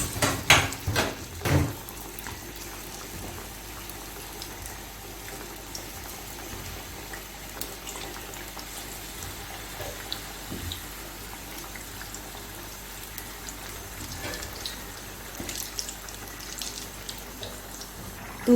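Potato snacks frying in hot oil in a home kitchen, a steady soft bubbling hiss throughout with a few louder clatters near the start.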